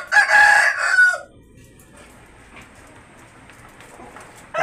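A caged Liza breeder rooster gives one loud, close crow lasting about a second, followed by near silence.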